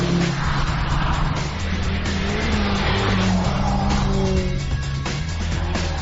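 A BMW E30 M3 sliding around a race track, loud engine droning and revving continuously with wavering tyre squeal as the car drifts, close and sustained with no talk.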